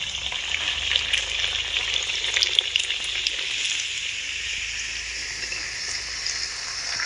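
Potatoes for dum aloo fry in hot oil with a steady, bright sizzle and crackle that holds evenly from start to finish, with no voices.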